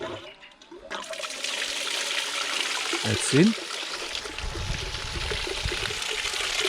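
Water poured into a cleanup sluice outdoors at a creek for gold prospecting: a steady broadband rush of flowing water running throughout, with a brief splash and a short spoken remark partway through.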